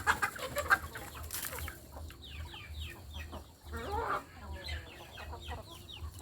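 Several native chickens cluck and chirp close by while eating feed in a coop, busy and overlapping, with a low background hum.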